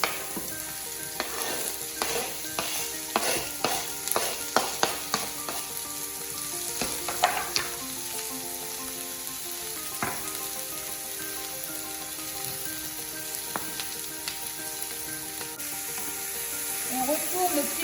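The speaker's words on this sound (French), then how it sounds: "On retourne nos petits poireaux qui sont en train de rissoler et dorer." Sliced leeks sizzling in hot fat in a frying pan, a steady crackling hiss throughout with scattered sharp pops and clicks from stirring, close and alone.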